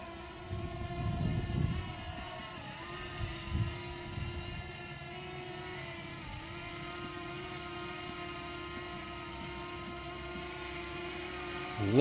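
A Fimi X8 Mini drone lifts off on automatic takeoff, its propellers holding a steady high-pitched whine with a few low thumps and rustles early on, with no talking.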